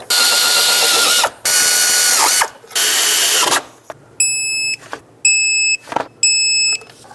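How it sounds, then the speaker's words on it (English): A ratchet clicks in several bursts while snugging throttle body bolts on a 2006-2011 Chevy HHR, loud close mechanical ratcheting with brief pauses between strokes. "Put the throttle body in position, start the bolts, snug up all 4 bolts, then torque them to 89 inch-pounds."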